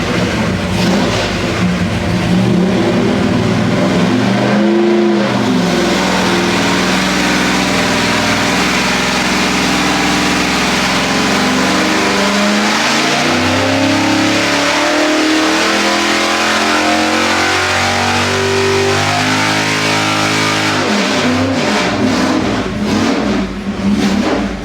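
A 406 small-block Chevy V8 on an engine dyno with a carburetor, running pump gas, roars loud and close through a sustained pull, its revving engine note rising and falling steadily for the whole stretch with no voices.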